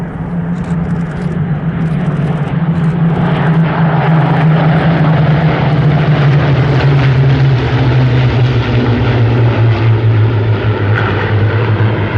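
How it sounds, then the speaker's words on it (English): A Spitfire Mark 16's propeller engine drones loudly and steadily overhead at an airshow flypast, its deep roar shifting slowly in pitch as the plane passes. "George Hay flying his Suffolk Spitfire RW382, that's a Mark 16"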